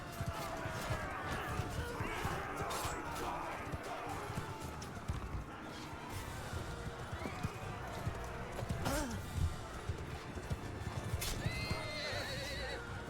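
Horses in the medieval battle game Bannerlord whinny and gallop with clip-clopping hooves amid battle noise, with crashes and shouted voices over the din.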